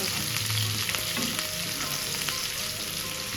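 Chopped onion and green chilies fry in a pan with a steady, close sizzle and faint stirring scrapes throughout, with no voices.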